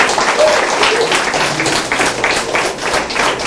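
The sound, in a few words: audience applause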